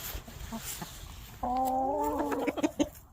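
A rooster gives a single strained crow lasting about a second, fairly clear over quiet farmyard background with a few small clucks and rustles around it.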